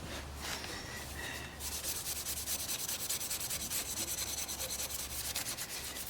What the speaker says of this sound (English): I'm just going to give this a wee scuff up in a paint, just to stop it from rusting.